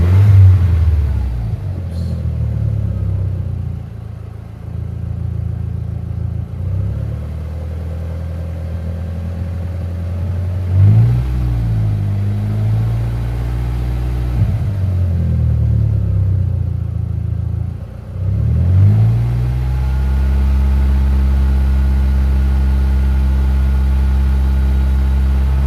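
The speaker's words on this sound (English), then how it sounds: "I'm gonna start the engine." An Audi S3 8L car engine turns over, then idles and revs several times, the pitch rising and falling in a loud, close rumble.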